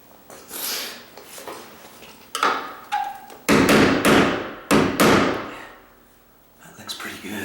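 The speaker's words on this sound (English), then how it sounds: "Looks like that hinge could be tapped ever so little." A hammer taps a door hinge on a tall, sagging door, giving several sharp, close knocks in irregular bursts with short pauses between them.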